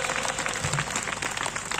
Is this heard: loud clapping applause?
yes